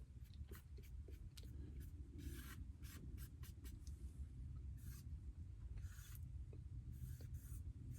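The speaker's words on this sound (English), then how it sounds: "That right there is a Sharpie, buddy. All I'm gonna do is put me a couple fat marks here." Sharpie marker squeaking out a couple of fat marks on a Dodge D100 engine's top end, a faint series of short scratchy strokes over steady low garage hum.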